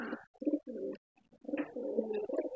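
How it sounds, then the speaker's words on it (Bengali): A domestic pigeon, a female kept in a paired loft, gives close, clear coos: a few short throaty bursts, a brief pause, then a longer rolling phrase. "এটাও আমাদের মাদি কবুতর।"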